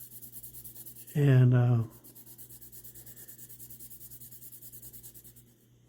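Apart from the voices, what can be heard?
scrubbing rust off a knife blade with Scotch-Brite pad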